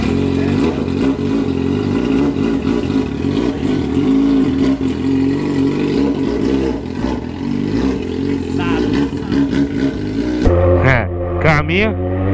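A modified Honda Today motorcycle engine runs loud and steady nearby with a throbbing mid-range drone, shifting pitch near the end as it revs; people talk over it.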